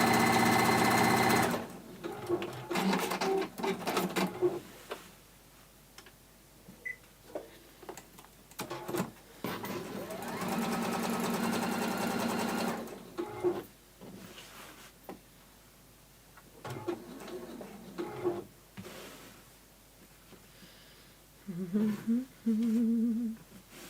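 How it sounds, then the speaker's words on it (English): A sewing machine stitches seams on a glitter pouch, boxed corners included, in several bursts of running needle noise separated by pauses, close and moderately loud with small handling sounds between runs. "I will sew from this side down that straight line, just because I want to absolutely make sure that everything matches up"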